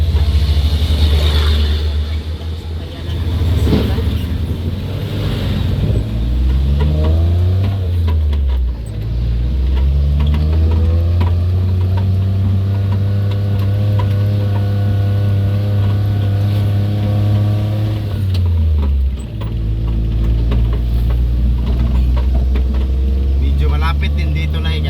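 Large oncoming vehicles roar past on a narrow road, their engine drone swelling and falling in pitch as each passes close, with heavy wind buffeting throughout.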